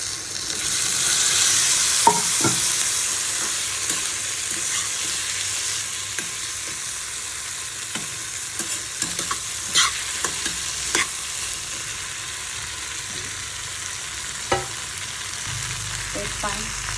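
Chickpeas frying in a pan with asafoetida, salt and fennel seed for chana masala, a steady close sizzle broken by scraping stirs and clinks of the spoon against the pan.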